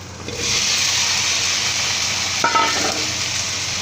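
Lotus stems stir-frying in a pan with dried shrimp and garlic, giving a steady loud sizzle with a brief clatter of stirring near the end, no voices.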